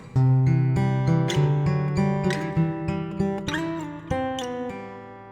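A guitar riff with sliding notes and quick pull-offs, plucked tones ringing together in a lively, uneven rhythm, played alone without talking.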